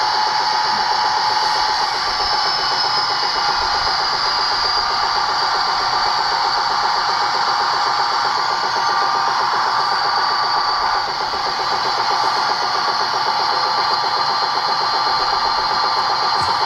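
A steady electronic engine drone from an ESU LokSound decoder in an HO-scale Rapido Budd RDC model train, humming continuously with a constant mechanical whine and no voices.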